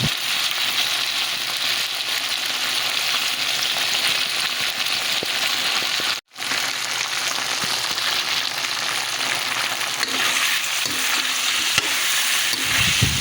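Squash and papaya cooking in a pan as oyster sauce goes in, a loud, continuous sizzle with stirring scrapes, briefly cutting out midway before resuming just as strong.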